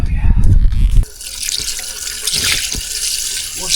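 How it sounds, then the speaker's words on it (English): Antifreeze poured into a 64-year-old Kenworth truck, a steady liquid pour into the radiator that starts after a loud, rumbling first second and runs on without a break, close and fairly strong. "Throw a little antifreeze in her."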